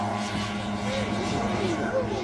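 Junkers Ju 52 three-engine vintage airplane taking off, its propeller engines droning steadily at full throttle with a rising tonal hum, heard at a moderate distance under a commentator's voice.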